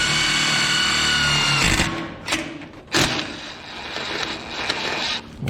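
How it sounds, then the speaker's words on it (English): A power drill bores a small pilot hole through metal trim on a metal building: a steady high whine for the first stretch, then short bursts of drilling and thuds, fairly close and loud with no talk. "I pre-drill a little bit of a hole just because when I put the screw in."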